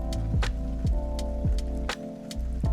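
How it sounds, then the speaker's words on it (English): Rain falls steadily, with distinct drops landing at a fairly regular pace over a deep, constant rumble. No voices are heard. "Another rainy day"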